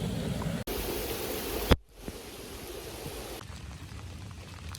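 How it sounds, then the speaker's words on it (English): Steady outdoor rain hisses evenly during a spring snake and amphibian search, broken by a brief sharp clatter and a short drop, then continuing as a soft, constant wash. "the rain is picking up"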